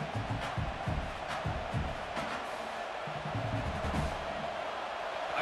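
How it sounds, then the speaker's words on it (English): In an American football video game, stadium crowd noise rumbles on as a constant, fairly distant roar with a few louder swells, heard faintly and without clear talk. "This crowd trying to do its part to get inside the kicker's head"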